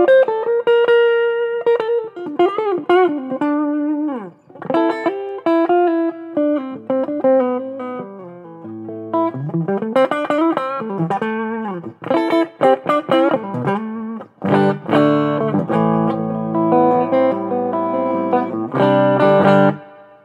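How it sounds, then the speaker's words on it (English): Guitar amplifier played through a JRockett Boing reverb pedal: melodic electric guitar phrases and chords ring out with a reverb tail, busier strummed passages in the second half, no talking. "So now add a little bit of reverb from the JRockett Boing reverb."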